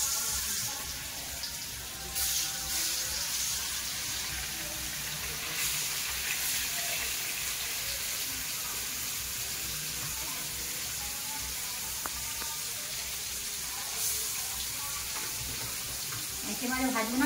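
Murrel fish coated in salt, turmeric and chili frying in hot oil, a steady close crackling sizzle that runs unbroken with faint stirring and clinking in the background.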